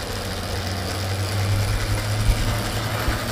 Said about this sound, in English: now we will see working of this project and it will start